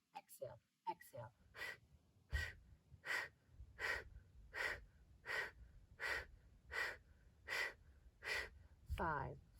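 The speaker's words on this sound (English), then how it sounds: "Exhale, exhale, exhale. Pump the belly and pull your belly button back." Forceful, rhythmic exhaled breaths in a yoga breathing exercise, about a dozen sharp puffs at an even pace, close and clear, with a few quick breaths at the start.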